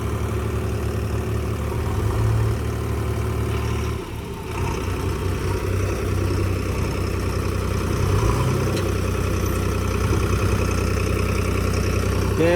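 A tractor engine runs steadily at idle on a farm, its low mechanical drone continuous and close, with a slight dip in level partway through before settling back.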